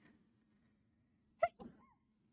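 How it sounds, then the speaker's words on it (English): A single quiet, sharp sneeze bursts out, followed by a short breathy tail, against an otherwise near-silent room with a low hum. "sneezing, apparently"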